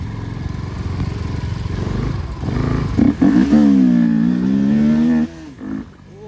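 Motorcycles, including a V2, ride together on the road as another bike joins. Engines drone close by, then one revs hard with a climbing, wavering pitch before easing off toward the end.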